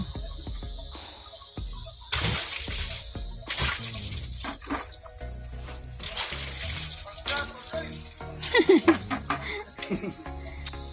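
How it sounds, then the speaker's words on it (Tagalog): Running water rinses soap off household items, with intermittent splashing and pouring bursts, irregular drips and handling noises close by over a steady background hum. "Yan, banlawan ng tubig."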